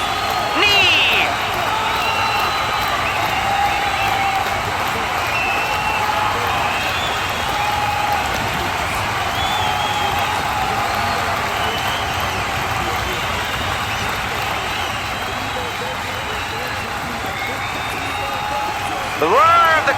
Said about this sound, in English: The roar of the crowd is unmistakable.